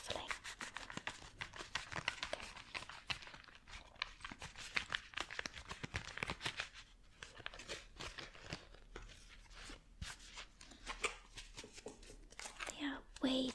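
A large deck of tarot cards is shuffled up close, producing dense rapid flicks, crinkles and riffling slaps in irregular bursts while a soft voice speaks quietly over them.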